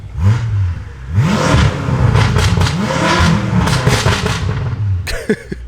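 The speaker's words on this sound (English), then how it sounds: "Here's what it sounds like from inside of the car" Tuned BMW F10 M5 with an FI exhaust heard from inside the cabin, engine revving up and down in repeated loud swells, with crackling burbles and pops as the throttle drops.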